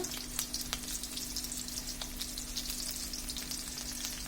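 Chopped onion and bay leaf frying in hot oil for vegetable khichuri, a close, even sizzle with a few crackling pops over a low hum.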